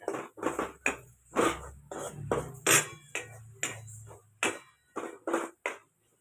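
Ground spices are stirred into hot oil with roasted garlic paste in a pan for sprouted matki rassa curry. A ladle makes a close, steady run of separate scraping and clinking strokes, each sharp and brief with short gaps between.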